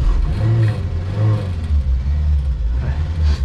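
Old Renault 4L small car engine running and revving, a close, loud low rumble that rises and falls in pitch with throttle blips, heard from inside or right beside the car.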